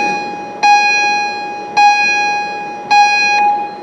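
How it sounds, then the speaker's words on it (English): School bells ringing during a Veterans Day program, three sharp struck tones with ringing harmonics, each decaying slowly under a steady resonant hum, loud and close. "even when school bells are ringing during my big, large Veterans Day speech"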